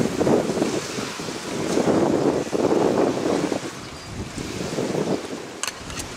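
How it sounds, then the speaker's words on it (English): Waves washing against a dock on the water where a boat is moored, a continuous churning swash with gusty wind buffeting the microphone and a few sharp knocks near the end. "sitting here dockside, waves crashing, seagulls calling out"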